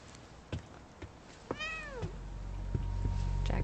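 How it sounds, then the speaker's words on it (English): A cat meows once in The Medium video game, a clear rising-then-falling cry after a few soft knocks and thumps, set against a quiet, low rumbling background. "Cats are purely evil."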